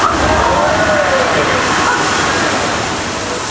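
A large splash of water from a physical effect in a live Disney stunt show, a loud rushing wash and slosh that stays dense and steady for a few seconds.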